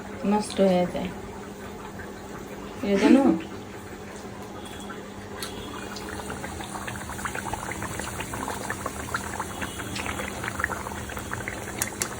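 Oil pitha fries in hot oil with a soft, steady bubbling sizzle, and two short bursts of speech break in early on.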